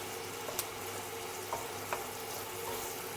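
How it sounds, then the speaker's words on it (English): Chicken and onion sizzle steadily in a hot pan during stir-frying, a continuous crackling hiss with a few soft taps from stirring. "I just keep stirring the chicken and the onion so it won't get burned."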